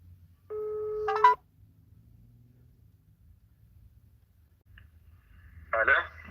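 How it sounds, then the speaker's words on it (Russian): A phone call is placed: a short burst of dial tones is followed by quiet line noise and then a brief ringing tone near the end, with low background rumble. "что я ему буду звонить."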